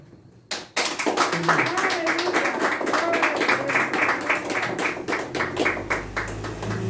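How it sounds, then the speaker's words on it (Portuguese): A church congregation claps in steady rhythm through a worship service, the beats close and loud, with voices and singing carrying along underneath. "Palmas para o Senhor."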